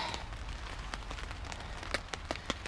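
Rain falls on an Ozark Trail two-person backpacking tent with an extended vestibule, a steady soft patter with scattered sharper drops hitting the fabric, fairly faint and continuous.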